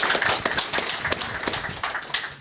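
An audience at a tech conference's short startup-pitch session applauds a presenter: many hands clapping in a dense, continuous patter of crisp claps, moderately loud throughout, with no voices over it.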